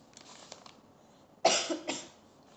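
A short burst of coughing from an itchy throat, close and fairly loud, with a couple of rougher follow-up coughs after a quiet stretch.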